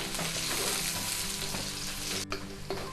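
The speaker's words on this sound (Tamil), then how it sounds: "இப்போ ஆனியன் கொஞ்சம் ஃப்ரை ஆகிடுச்சு" Onions frying over high flame in a wok for a crispy honey chilli potato starter, a steady dense sizzle with scraping stirs, loud and close, briefly cut near the end.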